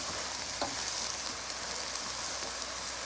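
Garden-fresh potatoes hiss steadily in a frying pan with dried anchovies as they're stirred, a broad, even sizzle with a few soft utensil knocks, fairly faint and with no talking.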